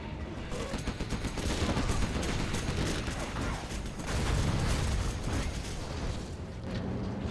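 Sustained barrage of blasts and rapid gunfire from MiG jets bombarding a main base in a real-time strategy game match, dense and loud throughout with no letup.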